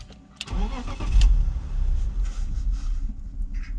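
A BMW 523i engine cranks and fires up close by, a sharp starter burst followed by a rough, fluctuating idle that rumbles loudly and unevenly for several seconds.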